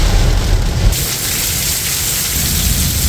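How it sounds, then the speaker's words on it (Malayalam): Heavy daytime downpour under dark, overcast skies, rain so dense that nothing is visible. It makes a steady, loud, continuous roar of rain hitting surfaces, with no voices. "ഒന്നും കാണാൻ പറ്റാത്ത കണക്ക് ഉള്ള മഴയാണ്."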